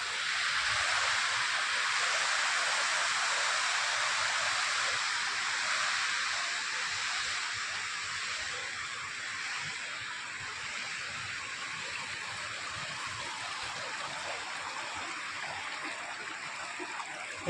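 River water in Armoor, Telangana pouring down over rocks, a steady broadband rush that stays constant and fairly loud throughout, then eases slightly, with no voices.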